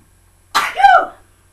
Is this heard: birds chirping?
no